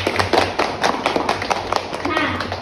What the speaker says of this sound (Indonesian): tepuk tangan untuk Angel